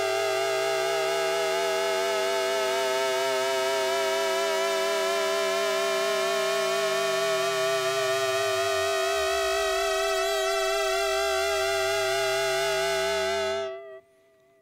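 A Yamaha SY99 synth pad whose FM operators drift in slow pitch-envelope sweeps, giving a bright, shimmering sustained tone with wavering overtones and curving low tones that rise and fall, heard alone before cutting off near the end.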